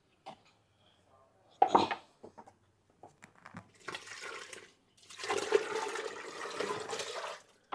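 Water mixed with slurry is poured in gushing bursts into a biogas plant, splashing and gurgling, with a short pour followed by a longer sloshing stream.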